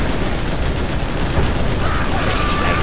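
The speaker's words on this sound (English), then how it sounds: "Need a bullet barrage." Gunfire in a Generals Shockwave mod battle, heard as a dense, continuous roar of bullet barrage shots that blur into heavy rumbling noise, loud and steady throughout.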